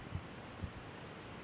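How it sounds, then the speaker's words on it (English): Outdoor wind buffets the microphone in a steady broadband rush with faint low thumps, loud and continuous for the whole moment, with no talking. "this wind is not really cooperating with me"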